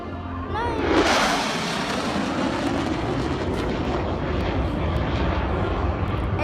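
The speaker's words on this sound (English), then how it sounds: "jet's flying by a crowd at high speed." A jet sweeps past an air show crowd at high speed, its roar swelling sharply within the first second, then settling into a loud, sustained rushing drone as it passes.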